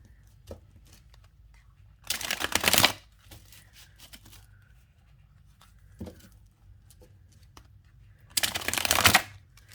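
Ethereal Visions tarot cards being shuffled in two loud, crisp riffling bursts with a short soft tap between, close up in a quiet room with no talking.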